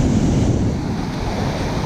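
Big ocean waves roll onto a sandy beach in the swash zone with a loud, continuous roar of surf, mixed with wind buffeting the microphone.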